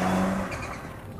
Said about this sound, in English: Except this is no ordinary Citroen DS3, of course.